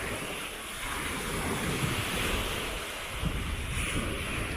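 Sea waves wash onto the beach at Weymouth, Dorset, a steady broad surf roar mixed with wind buffeting the microphone.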